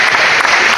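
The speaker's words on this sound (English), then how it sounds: "So we're going to clap it up for that." Podcast hosts clap briefly in a short burst of steady, close clapping with no talk over it.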